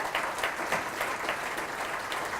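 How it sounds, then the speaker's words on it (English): An audience at a community organization's evening event applauds a sponsor, giving a steady burst of many hands clapping at moderate volume, dense and continuous throughout with no talking. "Round of applause."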